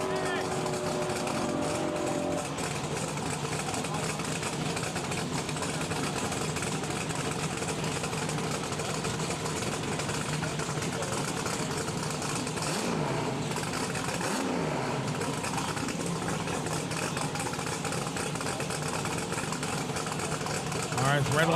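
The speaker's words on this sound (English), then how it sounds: "Tractors are coming up." Tractor engines idle in a steady, loud drone at the starting line of the TX2K23 drag race, with a brief swelling rumble midway, all under continuous crowd noise and voices.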